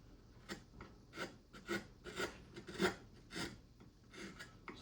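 A chisel scrapes and carves into soft cottonwood bark in a run of short, rhythmic rasping strokes, about eight cuts spaced roughly half a second apart, close up and quiet, with no talking.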